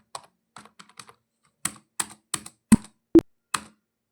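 Keystrokes tapped on an HP computer keyboard, a sparse run of separate clicks with short pauses, a couple of louder key presses near the end, close and clear with no talking.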